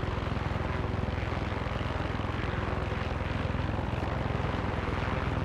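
A helicopter in the video game Far Cry 6 drones with a steady, dense rotor and engine roar, a continuous even rumble with fast rhythmic beating and no break in level.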